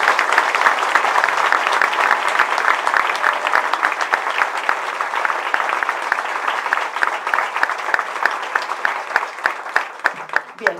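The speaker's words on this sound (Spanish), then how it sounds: "creo que podemos darle un aplauso como público." Audience applause for a lecturer at an academic philosophy talk: steady, dense clapping from a seated crowd that holds for about ten seconds, then thins into a few scattered, louder individual claps near the end.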